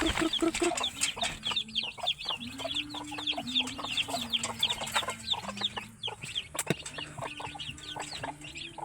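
Native chickens and chicks cluck and peep at close range on a farm, with busy overlapping chirps and low clucks throughout, one brief louder clatter partway through, and no clear talk.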